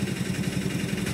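A motorcycle travels along a road near Bareilly in Uttar Pradesh, its engine giving a steady, moderately close hum with a rough, pulsing low rumble, and no voices.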